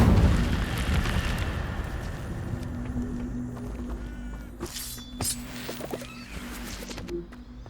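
Casting the Incendio fire spell in Hogwarts Legacy sets off a loud, rumbling burst of flame that gradually fades, followed by scattered crackles and small pops.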